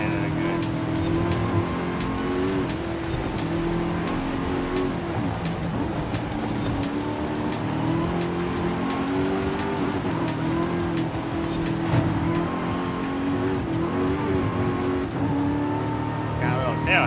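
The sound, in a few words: car engine and tire squeal in Forza Horizon 5 video game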